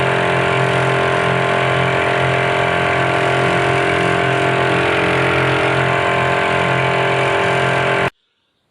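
A small outboard motor on a 21-foot boat runs at full throttle against a headwind and light chop, a loud, steady drone with no pause that cuts off abruptly just before the end.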